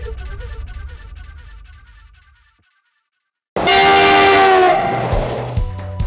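A Hindi TV news bulletin's train jingle: a background music bed fades to silence, then a loud, sustained train horn blares in with a rumbling rail rhythm, fading slightly toward the end.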